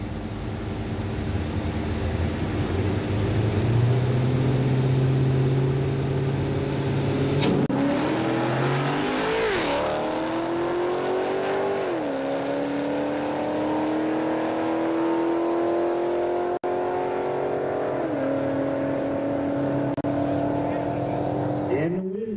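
Chrysler 300 cars drag racing at the 2009 LX & Beyond Nationals roar through a long wide-open run, engine pitch climbing in stepped gear shifts, loud and continuous, with an announcer talking over it.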